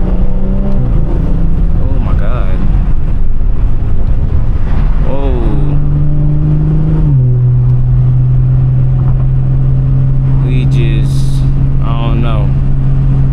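A car's exhaust rumbles during a point-of-view drive, with the engine tone climbing and dropping through several gear changes before settling into a steady drone. A person talks over it at times.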